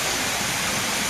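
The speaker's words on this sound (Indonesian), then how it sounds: "Anginnya kencang banget teman-teman ya" Strong wind rushes through a stand of bamboo trees at a graveyard, a brief, even, hissing roar of broadband noise with no distinct breaks and no voices.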